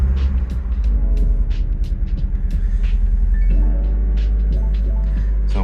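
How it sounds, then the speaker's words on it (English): A Mazda Miata engine with a misfire, cold after sitting for a couple of days, runs with a steady, loud, close low rumble and droning hum. The tone shifts slightly partway through. "She fires up strong and it's not shaky at all right now"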